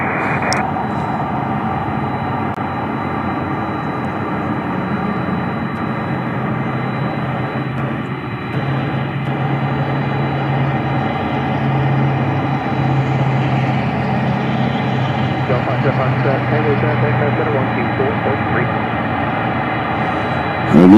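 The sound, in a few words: airplane arriving at Memphis International Airport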